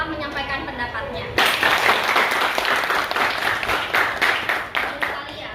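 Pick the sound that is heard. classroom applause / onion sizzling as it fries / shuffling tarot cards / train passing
classroom applause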